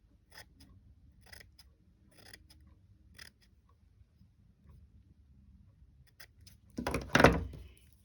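Scissors slicing through card stock while making a handmade greeting card, a single loud close cut near the end after a quiet stretch of faint handling clicks.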